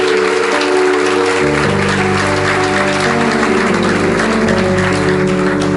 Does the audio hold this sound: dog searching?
no